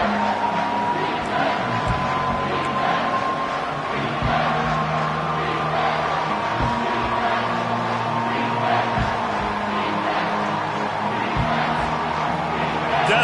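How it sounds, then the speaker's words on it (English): Stadium crowd in the NCAA 25 college football video game, a dense, steady roar of cheering fans building on a third-down defensive stand, loud throughout with a broadcast-style tone. "Decibels rising as the crowd gets behind this defense on 3rd down."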